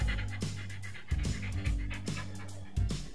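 A frightened dog pants close by in quick, steady rhythmic breaths, with a few louder bursts, at home in Sloviansk.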